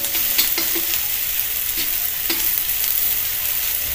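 Onion and chilli frying in a pan, a steady close sizzle with occasional stirring scrapes and clinks of a spoon, no voices.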